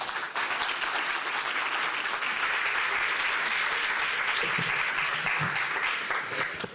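A seminar audience applauds after a talk on literacy policy, with sustained, dense clapping throughout and a few faint voices underneath.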